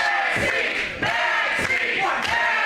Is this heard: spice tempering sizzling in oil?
no